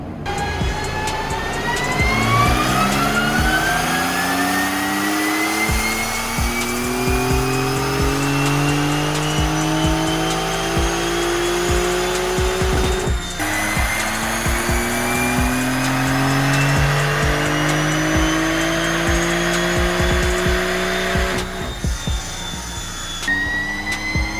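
Porsche GT4 RS road car strapped to a dyno, its engine climbing through the revs in long rising sweeps, with a sharp break and a restart partway through, loud and close throughout.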